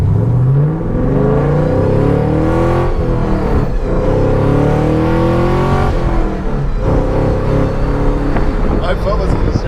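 Car with a DiabloSport i3 performance tuner accelerating hard, its engine note rising loudly and steadily from inside the cabin for about ten seconds.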